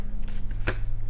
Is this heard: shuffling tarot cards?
yes